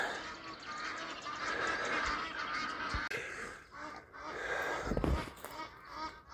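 A flock of geese, alarmed by an eagle, honks continuously and agitatedly at a river confluence, the harsh calls overlapping at moderate distance, with a few thumps from the recorder.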